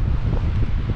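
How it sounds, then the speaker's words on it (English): Blustery seaside wind at Newbiggin-by-the-Sea buffets the microphone in a loud, steady low roar, with no voice heard over it. "quite blustery out there."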